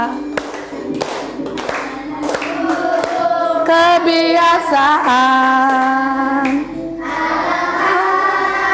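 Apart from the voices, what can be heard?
class clapping rhythm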